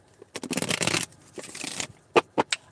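A deck of playing cards being shuffled at a table, with a long riffle burst followed by a second shorter one and then a few sharp taps as the deck is squared, close and without talk.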